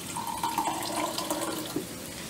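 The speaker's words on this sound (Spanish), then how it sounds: "Y ahora vamos a combinarlo con agüita mineral. Ya chilló." Mineral water poured into a drink mixed with half a lemon, a steady close splashing pour with fizzing bubbles running throughout.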